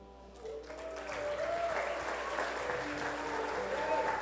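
A church congregation applauds in a house of prayer, steady clapping swelling and holding loud with a sustained tone and voices mixed in beneath it.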